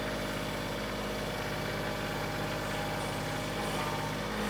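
Tractor engine hauling a load of wood up a hill, a loud, steady droning rumble with a pulsing low throb, continuous and close, with no talking.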